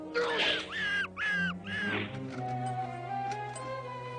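A cartoon bird caws three times in quick succession, loud harsh calls up front, followed by a softer sustained tone underneath.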